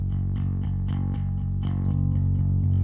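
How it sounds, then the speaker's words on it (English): Bass guitar captured through a Shure SM52 and an AKG 214 on amp cabinets, each with EQ, playing a steady line of deep sustained notes with rhythmic plucks, loud and close with a slightly distorted edge. "recorded the bass myself"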